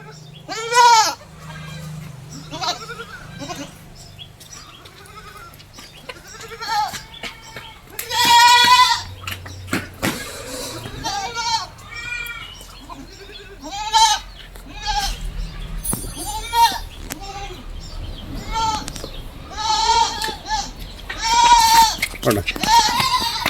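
Crossbred goat kids bleat repeatedly, close and loud, with overlapping high wavering calls throughout and a person talking intermittently in the background.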